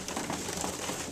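Young pigeons feeding on peanuts make soft, muffled cooing over a steady bed of rustling and pecking noise, close by and continuous.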